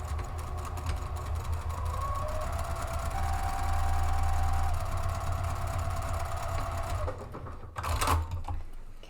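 A sewing machine runs steadily for about seven seconds, stitching Peltex interfacing to a fabric base panel with a 90/14 needle at 3.0 stitch length for a drawstring picnic bag, then stops with a brief handling clatter.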